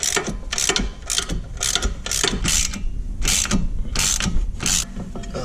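Hand ratchet clicking in quick repeated bursts while loosening the 15 mm brake caliper bolts on a 2019 Mustang, close and loud with short pauses between strokes, no voices.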